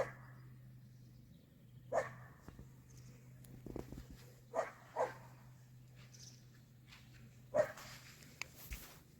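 A dog barks in a garden with strawberry beds, giving several sharp separate barks spread out over a quiet background with a steady low hum, fairly near and alone.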